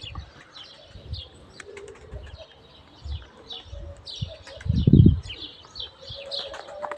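Pigeons flying and flapping their wings, with several close bursts of wingbeats, one loud flurry among them, mixed with cooing and chirping bird calls outdoors.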